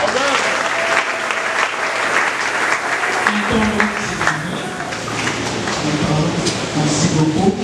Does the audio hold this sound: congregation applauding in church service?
yes